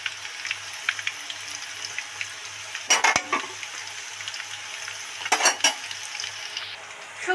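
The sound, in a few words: potatoes deep frying in oil with dried chili and bay leaf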